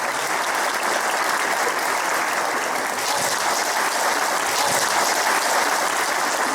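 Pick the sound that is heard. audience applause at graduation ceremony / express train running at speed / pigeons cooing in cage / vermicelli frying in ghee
audience applause at graduation ceremony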